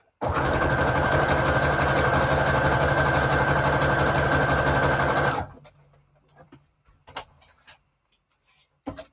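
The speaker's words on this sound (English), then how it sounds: "I'm going to use a zigzag stitch, kind of wide and longer than normal. So I'm going to sew these together" A sewing machine runs a wide, long zigzag stitch joining pieces of book paper, its motor droning loud and steady for about five seconds before stopping, followed by faint handling clicks and rustles.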